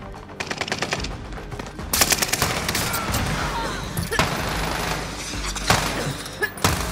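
Handheld Nebula 5 minigun firing in a video game, heard as dense bursts of rapid automatic fire with sharp cracks, loud and close, continuing almost unbroken across the whole stretch.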